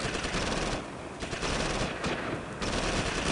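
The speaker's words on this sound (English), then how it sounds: "taking some pot shots at him there" Sustained machine-gun fire from the World War II strategy game Close Combat: Invasion Normandy, in long loud bursts separated by two short gaps, with no talking.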